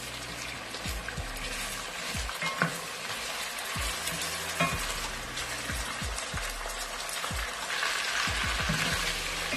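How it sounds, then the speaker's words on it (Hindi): Chicken fries to a light brown in a pan with a continuous close sizzle and crackle, broken by repeated scraping stirs and soft clatter of a spoon against the pan, no voices. "इसको मैं लाइट ब्राउन फ्राई करूंगी चिकन को"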